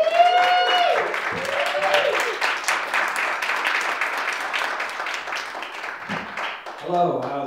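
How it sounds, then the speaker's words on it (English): Comedy club crowd applauds as comedian Adam Weatherford takes the stage, dense continuous clapping mixed with music and some voices, fairly loud and steady throughout. "Big round of applause"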